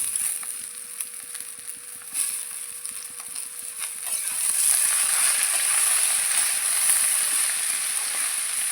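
Leafy greens fry in a pan with lentil bori, giving a soft steady sizzle with faint stirring that grows somewhat louder partway through, with a thin continuous hum underneath and no talk.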